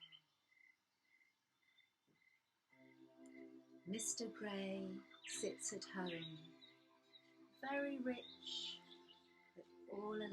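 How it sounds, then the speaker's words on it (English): Light, evenly repeated bird chirps in jungle-themed background music open a children's story read aloud, then a voice narrates over the soft music. "Can you hear the birds singing?"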